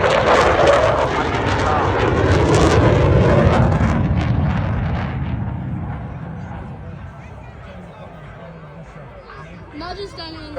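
A Eurofighter Typhoon jet roars loudly past at the Blackpool airshow, a broad rushing blast that peaks early and fades gradually as it moves away, with spectators chattering faintly underneath.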